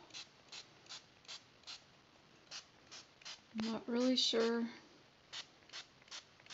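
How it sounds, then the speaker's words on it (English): Small hand-pumped spray bottle of bleach squirted onto a T-shirt, giving a steady series of short, evenly spaced spritzes close to the mic, with a brief stretch of speech in the middle. "my hand's getting tired of pumping this little spray bottle"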